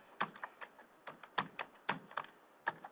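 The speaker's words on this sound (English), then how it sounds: "typing in his information now" Someone types on a computer keyboard, a run of crisp, uneven key taps with a few louder strokes, close and clear against a quiet background.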